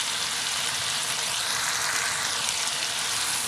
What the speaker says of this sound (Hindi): मसाले को 4-5 मिनट अच्छी तरह से भून लेते हैं